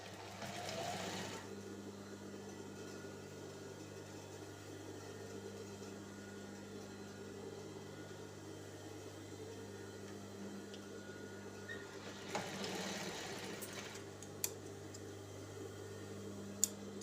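A sewing machine stitches three blouse neck pieces together. Its steady, close motor hum runs throughout, with a few faint clicks near the end and no talking.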